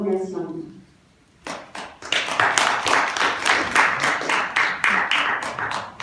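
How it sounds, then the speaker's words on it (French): A public meeting audience bursts into dense, sustained clapping after a question, close and loud, following a short spoken voice at the start. "Merci pour les applaudissements nourris."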